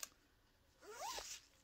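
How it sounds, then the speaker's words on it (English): A zipper on a fabric cross stitch project bag is pulled open in one quick, close, rasping stroke after a brief pause, heard alone in a quiet room. "You are going to hear zippers from project bags."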